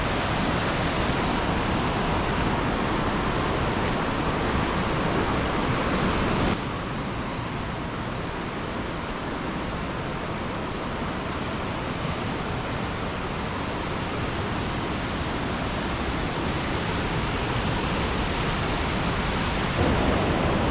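Powerful rushing water at Tumatumari Falls on the Potaro River, a dense, constant roar of river current pouring over rocks, loud and close, unbroken from start to finish with no voices.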